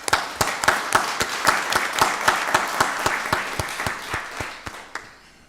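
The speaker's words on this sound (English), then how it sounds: "Let's give them a round of applause." An audience at a county board of commissioners meeting applauds, with sharp individual claps standing out over a steady wash of clapping that carries on for several seconds before thinning toward the end.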